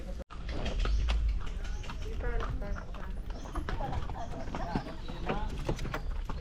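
Horse hooves clip-clop steadily while pulling a carriage on a working farm in the Philippines, a moderately near, even rhythm heard under people talking.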